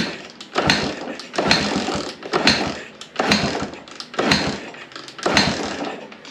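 A Honda XL175 dual-sport motorcycle engine with an uncleaned carburetor, which dies out under throttle, sputters in a series of six loud, rough bursts about a second apart, each surging and then fading.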